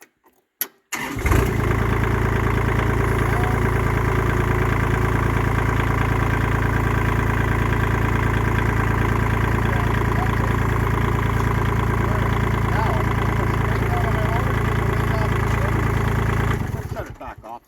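A Kubota B2601 compact tractor's engine starts up, then settles into a steady, loud, close idle with an unbroken diesel rumble for about fifteen seconds before cutting off.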